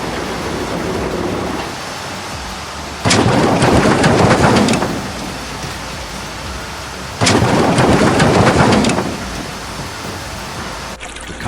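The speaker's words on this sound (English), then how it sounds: "the clouds darken, rain pelts down" Heavy rain pours steadily on a trail as two loud thunderclaps crack and roll in, each lasting a couple of seconds, with the downpour continuing between them.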